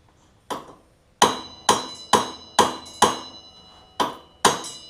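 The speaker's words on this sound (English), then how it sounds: "keep that nut on, give it a tap. Most of the time it'll pop right up pretty easy." Hammer taps on a nut threaded onto a Grabber diff lock kit part for a Yamaha Kodiak 700 ATV: seven sharp metallic strikes, the first lighter and the rest evenly spaced with ringing decay, close and clear with no talk.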